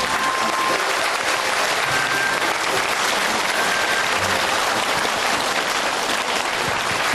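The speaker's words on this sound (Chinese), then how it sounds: "我们希望全场观众咱们再鼓半分钟掌" A studio audience at a televised Chinese talent show applauds steadily and loudly throughout, a dense, even wash of clapping with no pauses.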